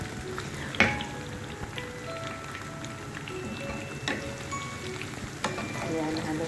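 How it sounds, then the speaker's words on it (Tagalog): Onions fry in a pan with vegetables, a soft steady sizzle and crackle broken by sharp spatula knocks and scrapes as they are stirred, close and fairly quiet, no talking. "So, ilagay na natin yung ating sibuyas. And then, haluin ulit natin siya."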